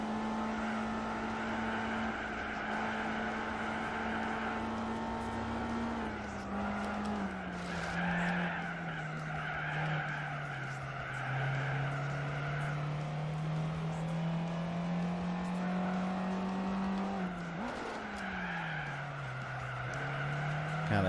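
Mercedes-Benz SL race cars in Gran Turismo 4 wail with sustained engine tones while tires squeal and skid through corners, the pitch sliding down and back up over a long stretch.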